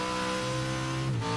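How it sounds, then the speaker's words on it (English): A Pro-4 off-road racing truck in the game CORE: Championship Off-Road winds up its engine, heard from the cockpit as a loud, sustained engine tone that holds steady and then dips briefly, with no talk over it. "Listening to this truck really wind up."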